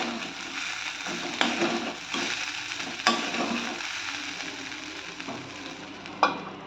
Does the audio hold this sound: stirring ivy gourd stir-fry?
yes